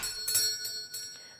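A small shop bell above a barbershop door rings with bright, sustained metallic tones, a few soft strikes close together that shimmer and fade, with no talk.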